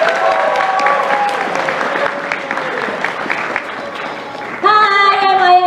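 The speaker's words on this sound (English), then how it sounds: "Give yourselves a round of applause." Audience at an anime convention applauds itself, a dense wash of clapping mixed with cheering and a voice over it, then music swells in near the end.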